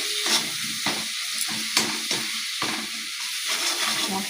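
Ground spices frying in hot oil with cumin, chili and turmeric for a Bengali tangra fish curry, a continuous close sizzle broken by repeated scraping strokes of a spoon stirring the pan.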